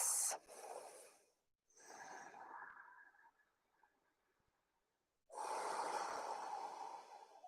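Deep, strong breathing during a yoga flow: long, forceful breaths through the nose, close and clear, separated by quiet pauses, with no talking.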